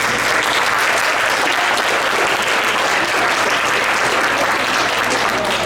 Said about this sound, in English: So one last round of applause for all the parents.